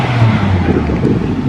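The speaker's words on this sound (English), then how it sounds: "Honda's 2000s and Porsches doing a bit of a rev off type thing." Honda S2000 and Porsche engines rev together at an outdoor car meet: a brief, loud, continuous engine roar with some wind noise.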